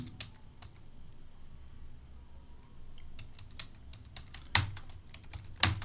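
Keystrokes on a computer keyboard while entering a payment voucher in Tally Prime accounting software: scattered soft clicks with a few sharper, louder presses, close and alone, with no talking.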